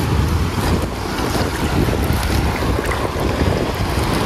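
A boat motors across open water, its engine rumbling under heavy wind buffeting and splashing waves, loud and continuous with no talking.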